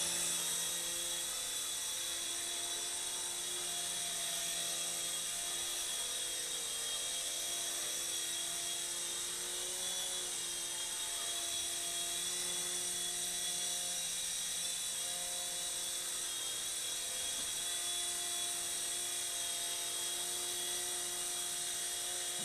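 A Lego Sky Star toy police helicopter flying at full speed forward, a steady high-pitched motor and rotor whine that stays loud and even throughout, no voices.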